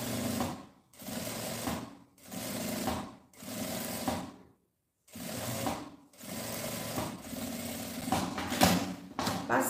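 A sewing machine stitching a handbag lining seam runs in repeated motor bursts of about a second each, with short pauses between them and one longer silence midway, close and steady.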